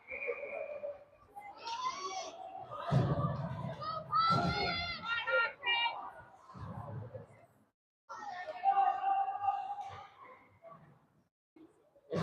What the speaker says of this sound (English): Some kids probably screaming. I think it's some kids screaming.